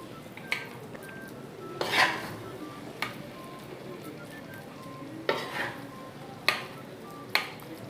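Chana dal halwa is scooped out of a pot, with a few sharp spoon clinks and scrapes against the metal spaced apart over a faint background hiss, close by and with no talking.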